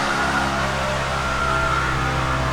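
Nearby buzzing of a scooter's small engine, steady and fairly loud, droning throughout as it passes.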